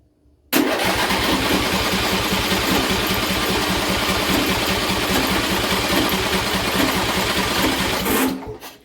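A John Deere tractor engine cranks after a carburetor replacement: a loud, rapid, even chugging rhythm starts abruptly and runs steadily for about eight seconds before cutting off, close up with no talk.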